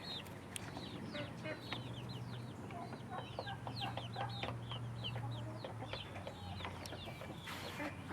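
Several chickens clucking softly at a distance outdoors, a steady chatter of short overlapping clucks with no talk.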